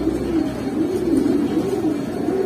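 Hurricane breed pigeon cooing close by in a steady, continuous low warble that runs through the whole stretch.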